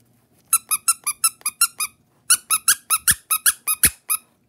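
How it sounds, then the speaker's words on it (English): Green Among Us plush toy squeezed over and over, producing a steady run of shrill close-up squeaks, a brief pause, then another faster burst of squeaks, with no talking. "they're squeaky for one"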